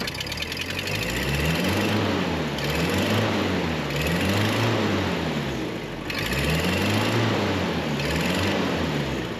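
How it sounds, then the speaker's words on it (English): A vehicle engine runs at a campsite with an exhaust manifold leak, a loud steady rumble with a rhythmic, wavering puffing pulse repeating every couple of seconds, close by and with no talking. "but I still have an exhaust leak"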